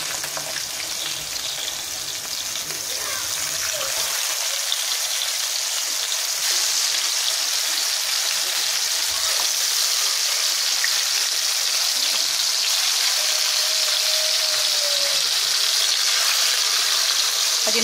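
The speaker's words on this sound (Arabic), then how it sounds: "دابا غادي ناخذ الكوتليت اللي درت الزيت سخنات" Meat cutlets frying in hot oil give off a steady, loud sizzle and crackle that runs continuously throughout, with a brief burst of bubbling at the start and no talking.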